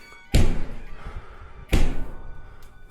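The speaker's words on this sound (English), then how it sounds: "the knocking sound actually matched up with the door's movements" Two heavy, booming knocks or thuds on a door in a ghost video, spaced about a second and a half apart and loud and close, with a faint tap after.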